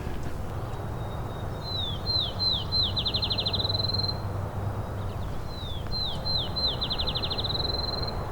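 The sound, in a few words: field sparrow song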